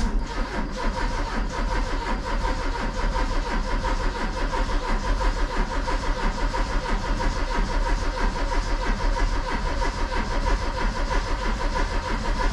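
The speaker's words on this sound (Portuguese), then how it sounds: "Vamos virar a primeira partida." A 1994 Chevrolet Monza GLS, stored for 19 years, cranks on its first start attempt, a steady loud mechanical engine drone running continuously at close range with no talk over it.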